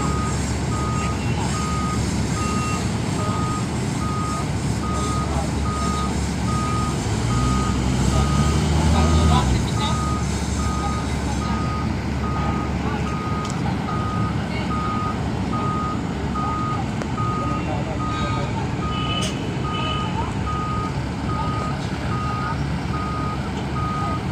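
A large truck reverses on a road job near asphalt, its backup alarm beeping in a steady evenly spaced series over a loud diesel engine rumble, with a person talking throughout.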